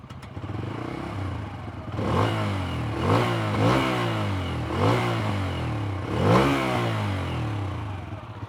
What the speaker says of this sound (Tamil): இப்போ எக்ஸாஸ்ட் நோட் வந்து பெட்ரோல் மோடில் நான் பண்ணி காட்டுறேன்.